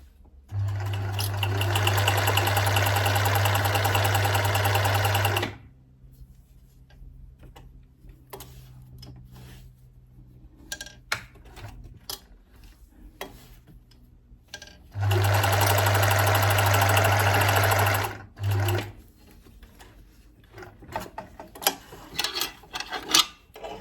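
A sewing machine top stitching a denim skirt in two loud continuous bursts of rapid stitching, separated by quiet handling clicks and fabric rustles.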